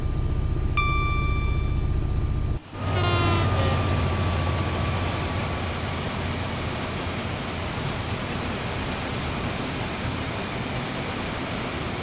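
Freight train running in a train simulator, an intermodal cargo service on the West Coast Main Line south: a steady broad rumble and rolling noise that fills the whole stretch after a brief cut, with faint tonal whines above.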